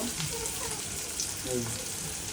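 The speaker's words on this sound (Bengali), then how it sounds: "পেঁয়াজটা দিব, পেঁয়াজটা হালকা ভাজবো, হলুদ রঙের হয়ে আসবে" Onions frying in hot oil give off a steady, hissing sizzle like light rain, continuous and even throughout, with a voice speaking faintly over it.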